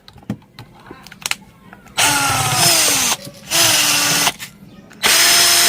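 A power drill backs out screws in short, loud whirring bursts, several in a row with pauses and small clicks between, while someone speaks briefly.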